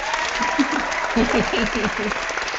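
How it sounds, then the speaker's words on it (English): A talk-show host claps for a guest joining the show, a steady patter of hand claps running under overlapping conversation for a couple of seconds. "I'm going to clap for you"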